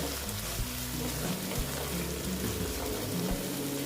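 Boal fish fry in hot oil in a pan, giving a dense, steady sizzle and crackle that continues evenly throughout with no voice over it.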